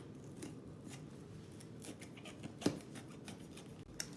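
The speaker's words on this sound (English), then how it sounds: "Now I am dicing the pepper." A knife dices a pepper on a cutting board for marinara sauce, with soft, close chopping taps and one sharper cut standing out over a low background hum.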